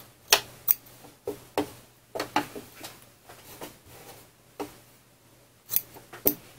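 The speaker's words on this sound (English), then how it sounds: "I am going to take my scissors and cut some of this off." Scissors cut fabric repeatedly at close range, a series of short crisp snips in an uneven rhythm with brief pauses between them.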